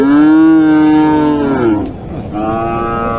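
A single long, loud moo from a Sahiwal-type heifer at a cattle market in Naogaon, close to the microphone, followed by a briefer second lowing call.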